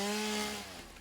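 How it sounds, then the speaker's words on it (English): The chainsaw in the game Satisfactory, used in area mode to clear plants, gives off a loud buzzing whine. It is strongest at the start, then drops and fades as the cut ends, with no talk. "But if we use the chainsaw with its area mode"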